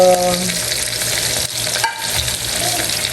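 Sautéed mung beans with cooked crab being stirred in a pan make a close, loud sizzle with scraping and sloshing, and a short break midway as the stirring shifts.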